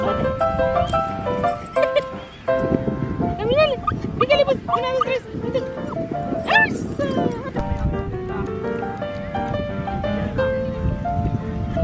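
Two dogs out on a walk bark, yip and whimper in irregular bursts, fairly close, while people talk over and between the sounds.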